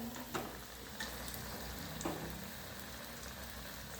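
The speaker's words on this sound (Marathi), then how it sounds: "तेल आता तापलेले आहे त्यात आपण वडी तळून घेऊया" Aluvadi, rolled colocasia-leaf fritters, fry in hot oil over low heat, giving a quiet, steady sizzle with a few soft ticks and clicks from the pan.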